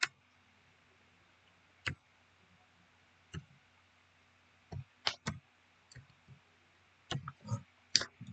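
Sharp, isolated mouse clicks sound on a web payment form, sparse and irregular at first, then clustering into quick pairs and small bunches, each crisp and close in a quiet room.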